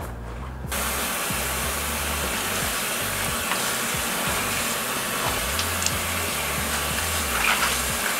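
Kale being rinsed in a veggie wash, a steady close rush of running water spraying and hissing without pause after a brief quiet start.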